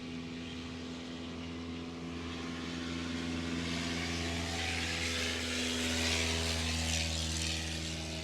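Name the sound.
Cessna-like small plane landing on the main runway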